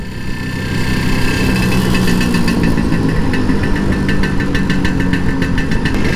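A Vespa scooter engine runs steadily while being ridden in fourth gear, a close, continuous buzzing drone with a slight rise in pitch, no talking over it.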